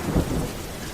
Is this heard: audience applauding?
no